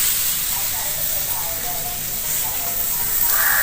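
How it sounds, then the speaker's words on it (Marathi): Onion and tomato roast in a pan outdoors at sunset, giving a loud, steady sizzle and hiss that continues unbroken for the whole stretch. "माझं इकडे भाजणं चालू आहे कांदा आणि टोमॅटो"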